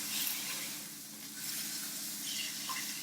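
Stuffed chicken sizzles steadily in a hot pan as it browns, giving a continuous close hiss that rises and falls slightly, with no talking.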